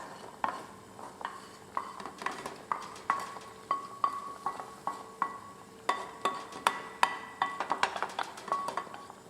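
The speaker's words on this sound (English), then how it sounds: "And now you add the tarka." Fried garlic and onion tarka goes into a pot of dal with a run of close, metallic spoon clinks and stirring taps under a faint sizzle, with no talking.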